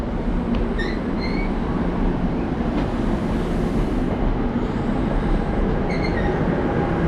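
A New Jersey Transit dual-mode diesel-electric train pulls away from Red Bank station on the North Jersey Coast Line, its loud steady rumble and wheel noise filling the scene, with faint brief squeals from the rails, no talking.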